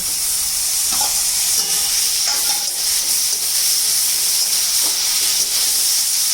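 Tomatoes go into a pan of fried onions while cooking a green chickpea curry, a loud continuous sizzle and hiss with occasional scraping stirs over it, close up and without voices.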